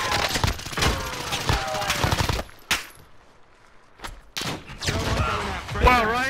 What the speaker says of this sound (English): The bounty's shooting me.